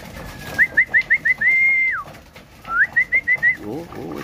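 Racing pigeons calling in a series of short repeated hooting coos, one drawn-out call between two bursts, fairly close with low background noise and faint voices.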